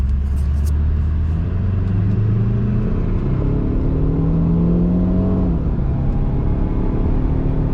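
A high-mileage Saab 9-5 Aero with its turbo working again accelerates in a loud, close, continuous engine roar whose pitch climbs steadily through the gears, with a faint whine over the top and no speech.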